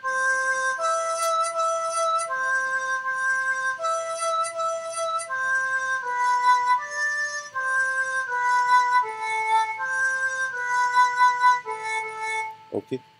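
A simple single-line melody played alone on a keyboard-like instrument, clear sustained notes stepping one at a time in an even rhythm, close and steady with no accompaniment.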